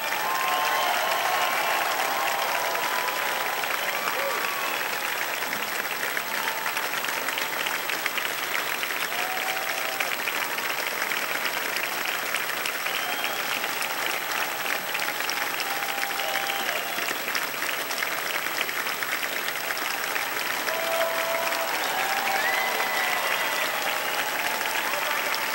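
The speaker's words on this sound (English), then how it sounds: "How about a huge round of applause for this group of players?" A baseball crowd applauds continuously at a Winnipeg Goldeyes game against the Gary SouthShore RailCats, a dense wash of clapping and scattered cheers sustained throughout.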